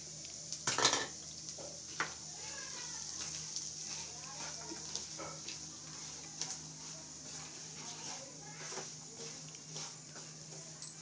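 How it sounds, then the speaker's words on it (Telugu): Masala spice mixture being stirred into peanuts in a pan, with irregular metallic clinks and scrapes of a utensil against the pan over a faint sizzle, one sharper clatter near the start. "ఆ మిశ్రమాన్ని పల్లీల్లోకి వేసుకుందాం."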